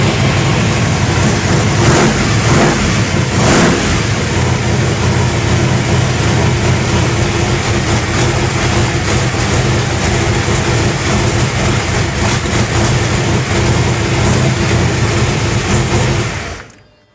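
A 355 V8 swapped into a Chevy S-10 with a modified oil pan runs on ramps indoors, a loud, steady, rumbling idle heard up close and alone for about sixteen seconds before cutting off.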